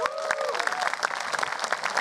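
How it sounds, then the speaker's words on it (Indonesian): A crowd gives dense, steady applause for stand-up comedian Arif Brata, with a short high-pitched whistle or cheer rising through the clapping at the start. "Sekali lagi boleh tepuk tangan buat Arif Brata"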